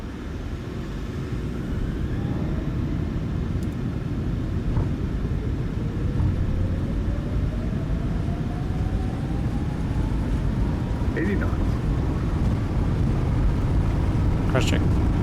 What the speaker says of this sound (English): So you guys can hear the full experience of this airplane.